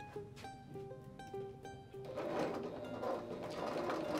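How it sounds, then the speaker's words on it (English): Sewing machine stitching a quarter-inch seam along a fabric strip, faint mechanical whir that starts after a few tonal beeps and then runs steadily and rapidly, close by. "we're going to sew all the way down"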